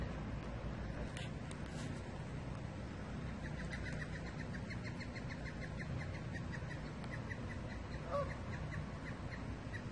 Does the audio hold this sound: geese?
yes